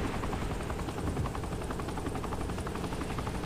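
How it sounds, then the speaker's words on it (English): Helicopters in the video game Saints Row The Third, a steady dense rotor and engine drone with rapid chopping pulses, loud and continuous throughout with no speech. "Here, we just got two choppers."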